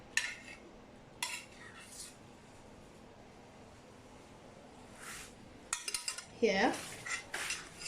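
Plates and cutlery clink and clatter while food is plated in a kitchen, scattered sharp metallic and ceramic knocks that grow busier toward the end, with a short spoken word among them.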